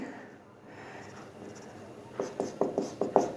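Quick chalk or marker strokes on a board in a physics class, a run of about seven short, rhythmic scratches close by after a quiet stretch of room noise.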